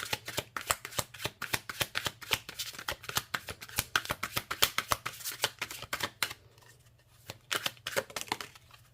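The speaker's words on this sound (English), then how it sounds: "Let's pull a couple more cards from this deck." A deck of tarot cards being shuffled and pulled by hand, a close, quiet run of rapid riffling bursts and flicks in an irregular rhythm, with a short pause near the end before more card snaps, and no talk.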